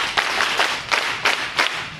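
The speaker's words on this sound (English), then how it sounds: "Very good. Over. Clap for him." Students at a high school give a short round of clapping for a classmate, with about five distinct loud claps spaced roughly a third of a second apart.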